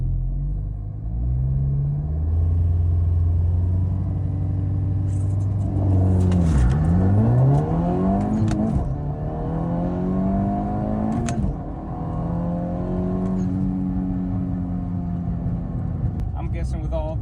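A 260 HP hot hatch converted to all-wheel drive launches hard, its engine holding a loud droning idle before revving up through rising, sweeping gear pulls, with talk over the run.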